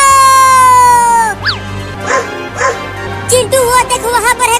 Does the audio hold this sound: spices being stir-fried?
no